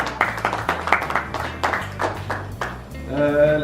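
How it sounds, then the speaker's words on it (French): An audience applauding the winner of a fondue contest in Montpellier, a crowd clapping in a steady patter that stays moderately close, then fading as music comes in at the end. "On peut l'applaudir une nouvelle fois"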